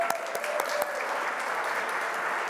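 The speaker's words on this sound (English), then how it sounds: "Round of applause for you all being here tonight." Applause rings out at the ALS Hope Foundation's anniversary gala, a dense room of clapping heard up close and held steady throughout, with no talk over it.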